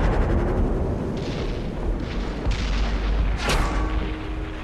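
A tank cannon fires in World of Tanks during a battle with an American T34 premium heavy tank, heavy booming blasts and rumbling over a dense, loud background of game noise.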